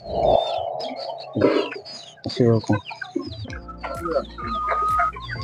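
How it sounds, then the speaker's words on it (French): Hybrid chickens on a poultry farm cluck and chatter close by, a busy overlapping flock with some louder squawks, and a low steady hum underneath. "voici quelques vagues de poulets qui sont là"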